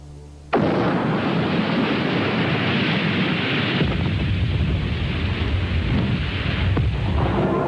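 Underwater bomb explosion set off by a depth-activated fuse, a sudden loud blast that erupts and holds as a sustained roaring, rumbling wash for several seconds.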